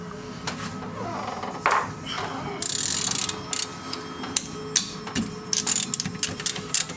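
A ratchet loosens the 5 mm Allen bolt holding the front brake caliper on a W210 Mercedes E320, giving a series of close, sharp clicking bursts with brief pauses between them.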